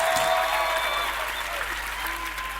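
An audience claps steadily in a dense, sustained round of applause that slowly fades, with a voice speaking briefly over it.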